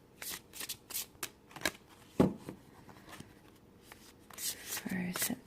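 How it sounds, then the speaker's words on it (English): Tarot cards are shuffled in quick bursts of soft riffling and slapping, close up and fairly quiet, with brief pauses between shuffles. "Just going to shuffle a little bit more."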